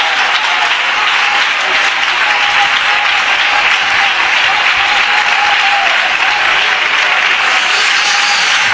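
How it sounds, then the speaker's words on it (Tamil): A church congregation claps hands together at a Tamil Christian service, a dense, steady roar of applause that continues at full strength throughout without pause. "கையை தட்டி பெற்றுக்கொள்ளுங்க"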